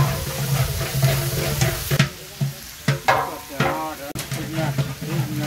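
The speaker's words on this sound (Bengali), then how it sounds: "এই পেঁয়াজটাকে এখন বাদামি কালার আসা পর্যন্ত ভেজে নিতে হবে।" Onions frying until brown in a large pot for a wedding-style roast, with a loud, close sizzle broken by several stirring scrapes and a voice talking over parts of it.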